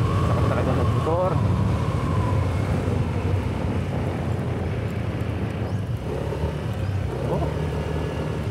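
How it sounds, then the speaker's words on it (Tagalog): A motorcycle rides a mountain road toward Mt. Pulag, its engine giving a steady, close rumble mixed with constant wind buffeting. A voice is faintly audible under the noise. "Sarap talaga mag-motor."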